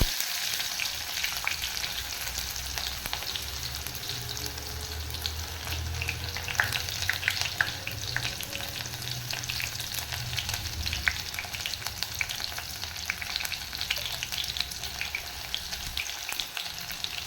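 Garlic and onion fry in hot oil in a pan, a continuous bright sizzle with occasional stirring scrapes, steady and close for the whole stretch, no voices.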